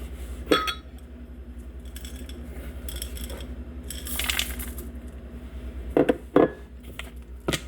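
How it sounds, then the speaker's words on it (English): Milk chocolate chips mixed into gluten-free, high-protein cookie dough, scattered clinks and scrapes of a utensil against a bowl over a faint steady hum, with no speech. "I'm just going to go ahead and mix those in."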